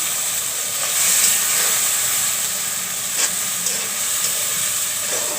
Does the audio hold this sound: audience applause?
no